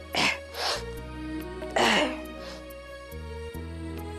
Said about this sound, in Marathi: कुठे गेला होता एवढा शिंका आणि खोकला?